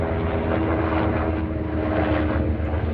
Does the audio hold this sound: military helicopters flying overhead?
yes